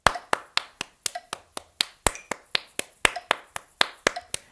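Hands clap a steady rhythmic pattern close by, sharp distinct claps with brief pauses between groups, counting out a beat during a vocal lesson.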